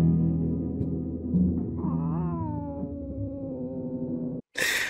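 A mangy-looking cat in the film Red Dog gives a drawn-out, wavering meow that rises and bends in pitch over a low background hum, then cuts off abruptly before a short burst of noise.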